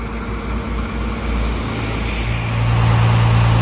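A tow truck's engine at a crash scene on a steep downhill road, running at a low idle: a steady diesel rumble that grows louder and rougher toward the end, close by and without voices.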